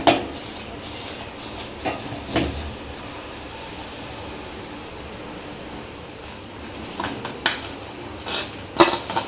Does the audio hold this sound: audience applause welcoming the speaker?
no